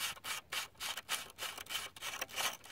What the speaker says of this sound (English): I'll just show you how easy this end cap screws off this shroud.